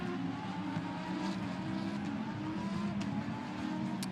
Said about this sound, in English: a great sight, a great sound that a grid full of Super Trofeo Lamborghinis make